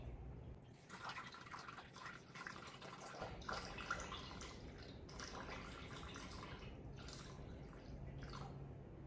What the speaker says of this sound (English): now we're going to add 220 grams of water and we're just going to weigh that directly into the bowl